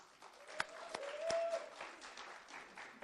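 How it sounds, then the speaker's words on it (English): Scattered applause from a graduation ceremony audience, with a few sharp individual claps standing out over a soft, uneven patter that stays fairly quiet, and a brief whistle-like tone mid-clip. "You can clap for every single person"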